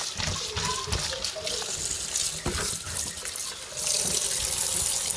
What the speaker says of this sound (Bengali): সবগুলো আলু ভাজির জন্য কেটে ফেলেছি এখানে ধুয়ে নিব ভালো করে ধুয়ে নিব